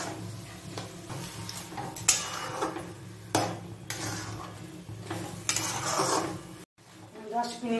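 Carrots for carrot halwa fry in a pan over low to medium flame, with steady metallic scraping and stirring clinks against the pan, close and continuous, pausing briefly near the end.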